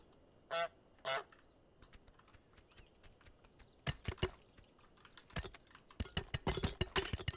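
Two loud, distinct goose honks from a goose in a video game ring out close together near the start, followed by rapid clicking keyboard-like taps and clatter that grows busier toward the end.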